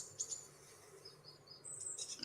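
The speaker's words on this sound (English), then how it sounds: "I like how you can hear the birds." Faint, distant birds chirping outdoors in a quiet setting, short high tweets scattered across a soft background hiss.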